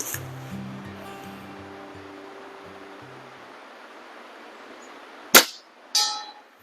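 A pellet from a Diana Model 240 air rifle strikes a metal target at 25 yards, two sharp metallic clangs with a ringing tail after a quiet stretch of faint background hiss.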